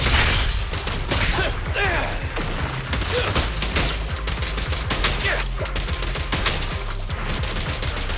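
Rapid gunfire from a character's weapon in the video game Zenless Zone Zero, dense overlapping shots in a continuous loud fusillade with mechanical clatter, a voice faintly underneath.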